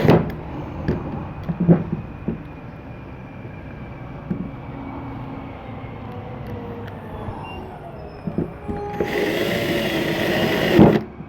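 A power drill driving screws into a wooden box, a few short clicks and thumps, then a sustained whirring drive near the end, close by with no speech.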